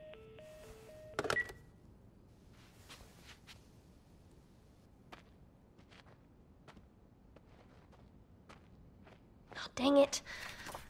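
A telephone keypad gives a short run of dialing tones inside The Last of Us Remastered video game, followed by faint footsteps and small rustling, and a brief beeping clatter near the end.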